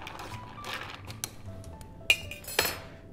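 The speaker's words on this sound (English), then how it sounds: "I like to give that a little bit of a stir" Ice clinks lightly in a glass as a Moscow Mule made with vodka, lime and Fever Tree ginger beer is given a quick stir, with a few sharp glassy taps over quiet background.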